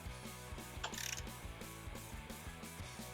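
A ratchet wrench tightens a bolt on the intake of a new-edge Ford Mustang, giving a rapid, even run of close mechanical clicks with a brief scraping rush near the start.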